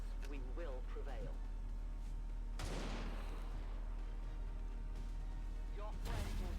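Bursts of weapon fire from the alien-fighting strategy game XCOM 2: War of the Chosen, including one loud broad blast near the middle, heard under continuous game music and talk.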